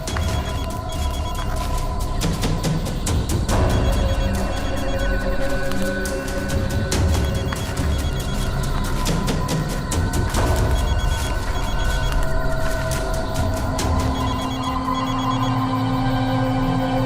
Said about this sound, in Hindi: सर, घंटी की आवाज काफी धीमी आ रही है।